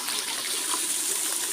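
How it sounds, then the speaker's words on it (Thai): A waterfall near Ban Na Ang in hilly countryside pours in a steady, close, broadband rush, a continuous hiss of falling water with no pauses and no voices over it. "น้ำตกกำลังไหล"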